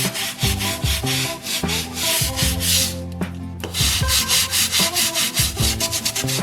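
Brush scrubbing a surface with multi-surface cleaner, rapid rhythmic back-and-forth rubbing strokes, loud and close, with a brief pause midway before scrubbing resumes.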